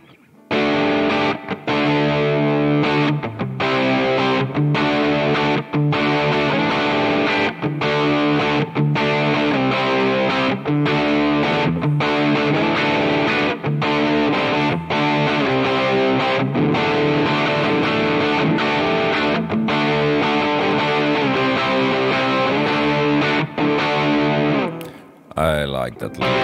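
Electric guitar through a small amp with the gain turned down and volume about half, a continuous stream of picked notes and chords with light drive, close and steady throughout.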